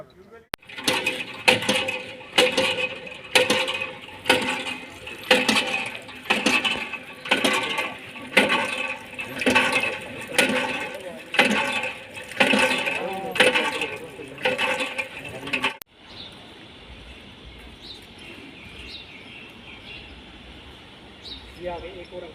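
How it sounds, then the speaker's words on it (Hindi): A hand pump at a migrant camp squeaks and thumps in a steady rhythm for about fifteen seconds as water gushes out, then stops, leaving quieter trickling and background noise. "अब देखिए ये अब पानी आ रहा है और ये भी पानी साफ नहीं होगा"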